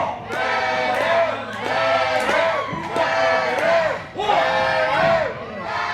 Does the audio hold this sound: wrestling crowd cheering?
yes